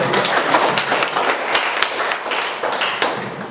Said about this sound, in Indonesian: mari kita tepuk tangan untuk ini